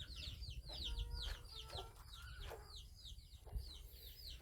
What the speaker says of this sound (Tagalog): Mga manok! Mga manok dito sa ilalim.